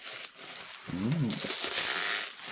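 Taped-up packaging around a home theater projector is torn and unwrapped, giving a continuous broadband crackling and crinkling rustle, with a brief voiced sound partway through.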